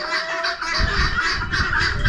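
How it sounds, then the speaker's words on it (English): Roosters at a poultry auction, loud repeated crowing and squawking calls close by over a dense barnyard din of other birds. "Bunch of roosters here."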